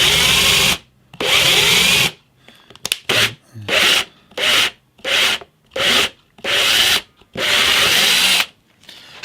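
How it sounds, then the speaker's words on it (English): Loud, close drilling into wood with a 6mm bit, about 6mm deep, for a homemade Telecaster guitar, in about eight short bursts separated by brief pauses, the bit whirring and grinding with each push. "I'm going in with a 6mm drill to about 6mm deep,"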